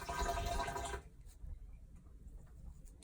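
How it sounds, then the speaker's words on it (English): Running water splashes as facial cleanser is rinsed off, a steady close wash for about a second before dropping to a faint, quiet trickle and room hiss. "Rinsing the cleanser off."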